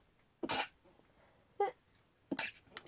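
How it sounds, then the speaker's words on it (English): Three short, sharp bursts sound a second or so apart, close and fairly loud, like a person sneezing indoors in a quiet room. "Sorry, I have to sneeze."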